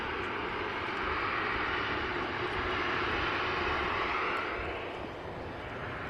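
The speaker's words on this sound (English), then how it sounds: "There we go, A321 on the roll." Broad, steady roar of an Airbus A321 jet engine as it begins its takeoff roll on a wet runway, heard from a distance, holding level and then easing slightly at the end.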